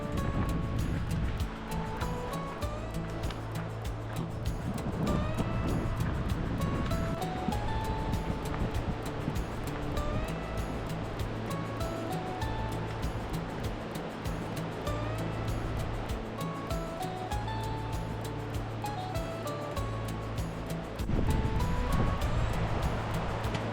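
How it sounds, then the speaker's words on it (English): A big river rushes under a bridge along a backpacking trail near Baker Lake, a steady loud broadband roar of flowing water that runs unbroken the whole time. "There's a bridge and a big old river."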